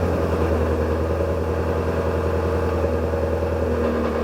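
Twin-turbo Ford Mustang engine running steadily, a loud, continuous low rumble with a close, even idle and no clear revs or voices.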